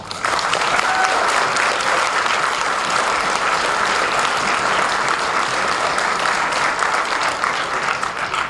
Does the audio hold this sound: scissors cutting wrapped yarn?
no